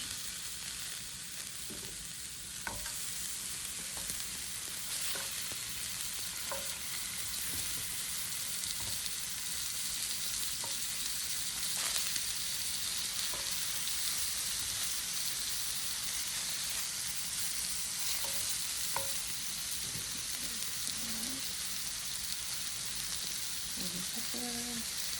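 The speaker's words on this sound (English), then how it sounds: "And now we're going to add some yellow squash." Yellow squash fries in oil in a pan, a loud continuous close sizzle with periodic soft scrapes and taps from stirring, no talking.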